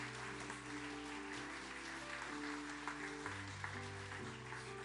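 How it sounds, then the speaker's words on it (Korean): A church congregation at Suwon Onnuri Church claps steadily through a certificate ceremony, the even applause blending with sustained music in the background. "큰 박수로 우리 축복하겠습니다."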